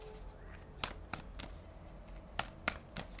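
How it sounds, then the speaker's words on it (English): Tarot cards are shuffled softly, with a few sharp slaps and rustling cuts spread over a few seconds against a low steady hum. "let's shuffle and let's get some more out."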